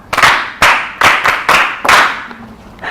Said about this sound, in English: Yes, clap for her.